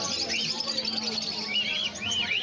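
Sun conures and other exotic parrots calling at a bird market in Galiff Street, with bright chirps and whistled calls repeating over a busy, steady din of voices and movement.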